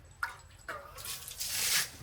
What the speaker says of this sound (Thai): อันนี้เราก็เทน้ำทิ้ง